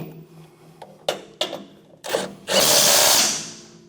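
A power tool tightens the bolts on a MUSKOX snowblower fan motor, with a few short clicking bursts followed by a loud, close whirring drive lasting about a second.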